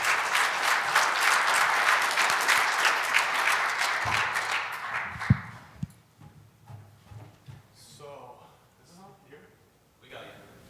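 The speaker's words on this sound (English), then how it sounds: "So a huge round of applause now for Ryan to come up and deliver a chat." Audience applause greets a keynote speaker at a live marketing conference, dense broadband clapping for about five seconds that dies away abruptly, followed by a few scattered claps and a voice speaking.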